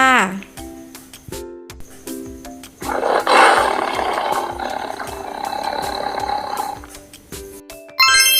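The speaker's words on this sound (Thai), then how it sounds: "ถูกต้องค่ะ เสียงพี่เสือค่ะ" A loud, rumbling tiger roar swells in and fades, preceded by a brief jingling chime, with another short chime at the end.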